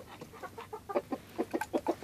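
Chickens cluck in quick, repeated bursts while pecking green onions from a plate, the calls close and lively with no voices.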